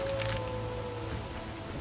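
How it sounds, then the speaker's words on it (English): Steady rain falling in The Witcher, a continuous soft patter that holds evenly under a low background hum, with no talk. "I hope the rain doesn't put out those fires I just lit."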